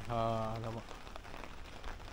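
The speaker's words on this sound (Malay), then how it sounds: "Malam ni hujan, lebat juga Ni dah reda sikit." Rain falls on a camping tent fly sheet at a public beach campsite, a faint, steady patter that follows a brief voice.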